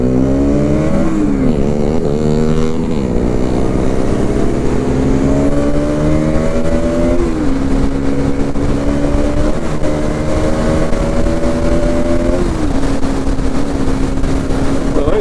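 A Bajaj Pulsar NS200 BS7 motorcycle held at full throttle, loud and close, its engine note climbing in repeated rising sweeps through the gears under a constant roar of wind.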